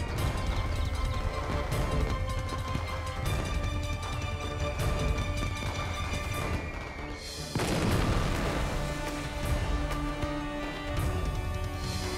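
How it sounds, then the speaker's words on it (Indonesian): Firecrackers pop and boom continuously in a dense, crackling barrage, loud and close, with a brief lull partway through. "Petasan mulai meledak."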